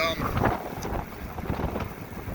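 Strong wind buffeting the microphone during a bike ride along Route 66, a constant close roar and rumble that fills the whole stretch.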